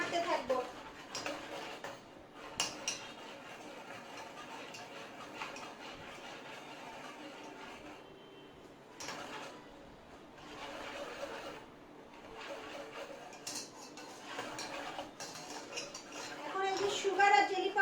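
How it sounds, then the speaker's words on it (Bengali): Lychee-flavoured jelly mixture is stirred in a pot, with steady scraping and clinking of a utensil against the metal running throughout, fairly loud, under intermittent talking. "স্লোলি দিব আর নাড়তে থাকবো।"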